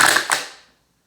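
Crinkly plastic crackles twice in quick succession up close as a plastic water bottle is crushed, then the sound dies away into silence.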